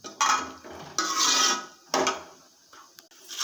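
Chickpea sundal being stirred in a pan, with a spoon scraping and knocking against the metal in several quick strokes, close and fairly loud.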